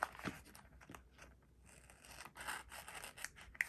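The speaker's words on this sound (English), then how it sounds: "these scissors are so sharp and just perfect" Sharp scissors snip through a sticker sheet in a few quick, crisp cuts with faint paper crinkling, close up and quiet, with no talking.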